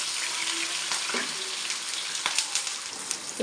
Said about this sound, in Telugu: మంటని సిమ్లో ఉంచి నిదానంగా వేయించుకోవాలి